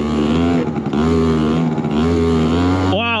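A two-stroke scooter engine held at a loud, steady high rev while the rider tries to pull a wheelie, buzzing close up before dropping and sweeping back up near the end.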